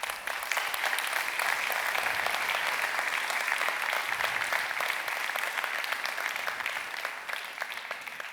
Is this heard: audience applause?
yes